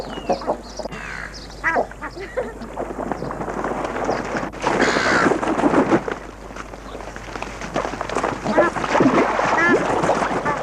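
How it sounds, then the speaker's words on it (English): Hundreds of water birds crowd the central pond of a park, sending out overlapping quacks, squawks and calls in a busy, continuous chorus, with splashing and a voice talking over them. "central pond of the park is home for hundreds of water birds"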